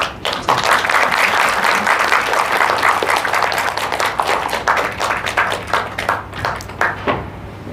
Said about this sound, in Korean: 우리 목사님 나오실 때 박수로 격려하고 축복하겠습니다